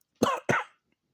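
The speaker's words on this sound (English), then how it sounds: "got a little cough there" Two quick, sharp coughs close to the microphone, followed by silence.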